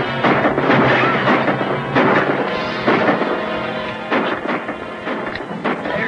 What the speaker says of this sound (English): Aim and fire.